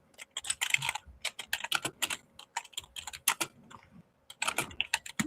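Rapid clattering keystrokes on a computer keyboard, close and crisp, coming in irregular bursts with short pauses between them.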